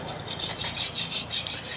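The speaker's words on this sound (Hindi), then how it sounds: "आरी पत्ती ले लीजिए इस प्रकार से और इसको अच्छी तरह से इस तरह से पूरी को साफ़ करना है" A hacksaw blade scrapes back and forth through the stator slots of a submersible pump motor to clean them, making steady rhythmic rasping strokes that are close and fairly loud, with no talking.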